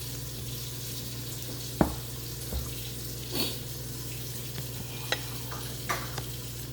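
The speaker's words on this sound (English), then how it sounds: "so you're gonna mix that all up like that" Bacon jalapeño cornbread batter with buttermilk being stirred in a bowl, a soft wet sloshing with scattered light knocks of the spoon against the side, steady and close.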